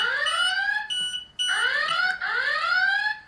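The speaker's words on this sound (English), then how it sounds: "I'll turn the Plumb Guard off so it stops beeping, and your mobile phone is now alarming." Loud electronic alarm tones from a Plumb Guard V3 site safety device sweep upward in repeated cycles, with brief gaps between them, close and insistent.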